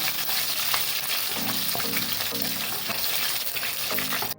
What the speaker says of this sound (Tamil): போட்டுட்டு கிண்டி விடணும்.